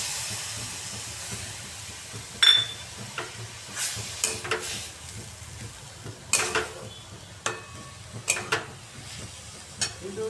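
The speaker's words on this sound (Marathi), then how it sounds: "आता आपण त्याच्यामध्ये दूध टाकूया" Sautéed carrots for gajar halwa sizzle and hiss in a pan as milk goes in, with steady frying noise broken by scattered clinks and stirring scrapes, close and moderate.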